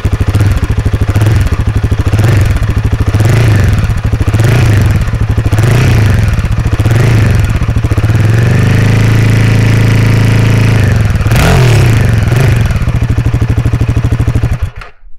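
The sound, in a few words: Royal Enfield Himalayan 450 motorcycle engine exhaust note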